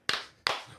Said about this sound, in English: 2 claps and a Ric Flair.